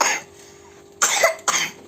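A sick child with a cold coughs nearby, a sharp cough at the start followed after a pause by two more close, rasping coughs in quick succession.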